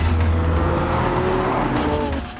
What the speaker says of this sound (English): The Lamborghini Aventador Roadster, a brand new 217-mile-an-hour convertible